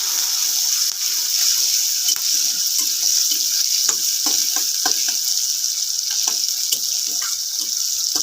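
Onion and green chilli sizzling and frying in a pan, a steady bright hiss with intermittent crackles and stirring scrapes, close and continuous with no talking.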